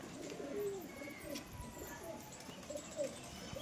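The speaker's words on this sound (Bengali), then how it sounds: "নিচে কবুতর ছেড়ে দিচ্ছে এই যে কবুতর আমাদের সবগুলোই আর নিচে কোথাও ছেড়ে দিচ্ছে" Pigeons coo softly and repeatedly as they are let go, a low burbling call close by with a faint background hum and no talk over it.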